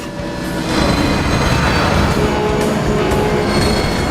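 A train in Transformers: War for Cybertron rushes past loud and close, building into a steady metallic roar with screeching wheel squeal and rattling clatter that holds to the end.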